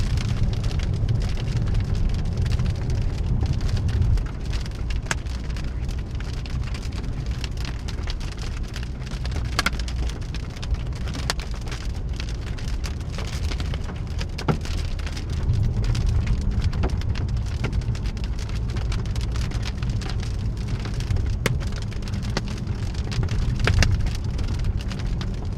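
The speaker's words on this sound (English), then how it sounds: "we gotta drive towards the hail to get out of the hail" Hail and rain pelt a storm-chasing vehicle during a Colorado supercell storm, a constant dense drumming with sharper individual impacts, heavy low rumble beneath and road noise throughout, with no voices.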